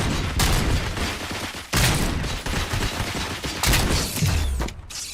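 Gunfire in the RoboCop: Rogue City video game comes in dense automatic bursts and fusillades with mechanical clanks between them. It stays loud and continuous with no voices over it.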